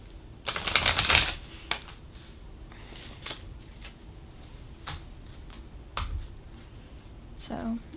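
Tarot cards being shuffled by hand, a burst of riffling and flicking near the start followed by scattered soft card taps and snaps, fairly close, with no talk.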